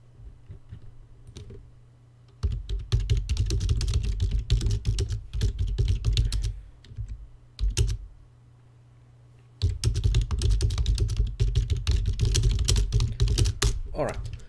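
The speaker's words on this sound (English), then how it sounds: "I do apologise about my noisy keyboard" A noisy computer keyboard is typed on in rapid bursts of close, loud clacking separated by brief pauses, while someone talks at intervals over a low steady hum.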